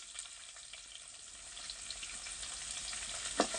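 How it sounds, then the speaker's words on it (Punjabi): Garlic frying in oil for a dhaba-style kadhi tadka after curry leaves, a steady close sizzle with light crackle that builds slightly, with a sharper pop near the end and no talking. "ਲਸਣ ਨੂੰ ਆਪਾਂ ਥੋੜਾ ਜਿਹਾ ਬਰਾਊਨ ਕਰ ਲੈਣੇ ਆ ਹਲਕਾ ਜਿਹਾ"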